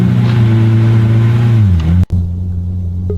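A Pagani Zonda Cinque Roadster engine from the Roblox game Driving Empire revs with a loud, steady, buzzing drone, then dips in pitch and cuts out briefly before resuming at a lower, flatter tone.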